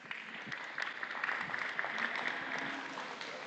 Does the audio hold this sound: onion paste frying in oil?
no